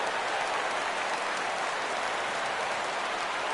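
Baseball stadium crowd in a PS4 video game roars and claps steadily at a 3-2 count, a dense continuous wash of cheering with no breaks.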